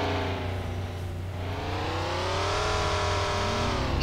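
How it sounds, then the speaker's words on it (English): A black Evo in City Life RPG 2 drives past with a steady engine hum that dips, then climbs in pitch as it accelerates, loud and continuous throughout. "one black Evo traveling eastbound, passing PD"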